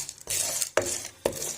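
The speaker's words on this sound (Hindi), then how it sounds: "अब इसके अंदर इस तरह से मकई ऐड कर लेंगे।" Corn kernels poured into a cooking pot for stovetop popcorn land in three distinct rattling, hissing bursts, each beginning with a sharp strike and trailing into a grainy scatter, close and moderately loud.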